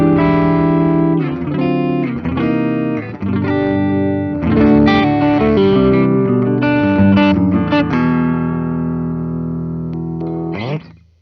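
A 1983 Gibson Spotlight Special electric guitar in Dark Antique Sunburst is played on the neck pickup with a clean tone: full, ringing chords and picked notes over several phrases, ending on a short final strum, with no talking.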